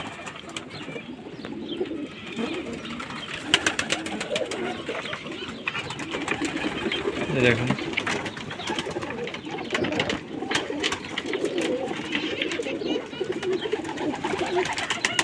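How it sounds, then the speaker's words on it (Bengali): Many pigeons coo continuously in a pigeon farm, a dense layered chorus of throaty calls heard close by, with a brief spoken word over it. "এখানে কবুতর অনেকগুলো আছে"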